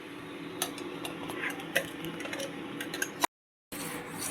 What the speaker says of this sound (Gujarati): હવે આપણે આ પલ્પ એડ કરી દઈશું